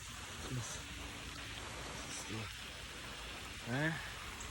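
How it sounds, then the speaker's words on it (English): Steady rain patters on a surface throughout, with faint voices underneath. "As you can see, it's raining."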